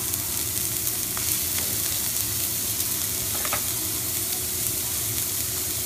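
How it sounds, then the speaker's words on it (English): Onions sauteing in heated olive oil, seasoned with kosher salt, give a steady, close sizzle and crackle that runs the whole time, with a few faint clinks of stirring and no talking. "Olive oil is heated up, and we're going to take our onions and we're going to start sauteing."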